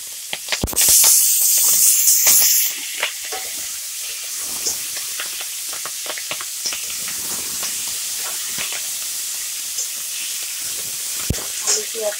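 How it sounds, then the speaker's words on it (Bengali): Potatoes frying in hot oil in a pan with onion and nigella seeds, a steady close sizzle broken by sharp crackles and pops, with a loud burst of hissing at the start. "আলু পেঁয়াজ কালিটাকে একটু ভালো করে ভেজে নেব।"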